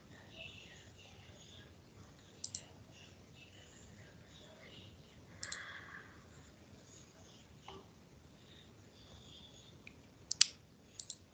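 Sharp computer mouse clicks scattered across a quiet room while working in a Google Form, a few isolated taps spaced seconds apart, close and faint.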